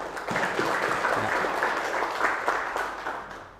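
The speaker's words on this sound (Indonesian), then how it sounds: "Beri aplaus untuk teman-teman kalian." Applause from students in a classroom, a steady burst of many hands clapping that fills the space and fades toward the end, with no talking over it.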